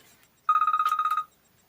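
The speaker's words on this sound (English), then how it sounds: "excuse me, my phone went off." A mobile phone ringtone goes off indoors, a quick run of about a dozen bright, evenly pulsed electronic beeps lasting under a second, loud and close.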